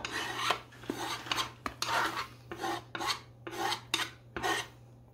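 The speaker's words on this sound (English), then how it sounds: "when I scrape, I always use the back side of my knife so that I don't damage my blade" The back of a knife blade scrapes chopped carrot across a cutting board into a bowl holding cabbage, green pepper and onion for coleslaw, giving about eight rhythmic rasping strokes, close and clear, with no talking.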